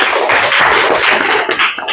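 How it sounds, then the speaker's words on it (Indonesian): A classroom group of students applauding together, a dense, steady patter of many hands clapping up close, filling the short stretch without pause. "Kita beri aplaus untuk kita semua."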